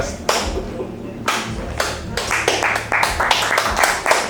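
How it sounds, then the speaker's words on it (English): A room of people at a live podcast taping claps sarcastically, a few sharp scattered claps at first building into quicker, overlapping bursts of hand claps, fairly close and loud. "You just had a whole room clap sarcastically."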